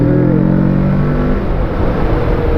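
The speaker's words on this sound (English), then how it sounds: "This bike really likes to be revved up." Kawasaki 650R motorcycle engine revving up, a loud, steady engine drone with rising harmonics early on that settles into a rough, sustained roar.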